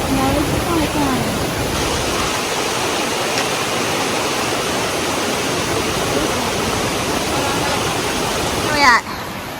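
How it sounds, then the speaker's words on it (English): A river with waterfalls along a mountain hiking trail on the Greenbrier Ridge Trail roars as a loud, steady broadband rush of falling water, continuous and close, with a brief bump near the end. "we've come across this beautiful river which has some waterfalls"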